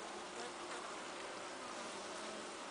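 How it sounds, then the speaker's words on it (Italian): Honeybees swarm around a hive in a small apiary, a dense, steady buzzing that fills the whole moment at a fairly constant level, with no voices over it. "Tante api, effettivamente."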